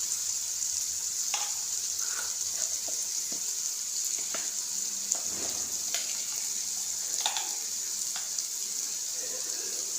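Ginger, garlic and turmeric sizzle steadily in hot oil in a pan while a duck dish is being prepared, a constant close hiss broken by occasional soft clinks and stirring scrapes.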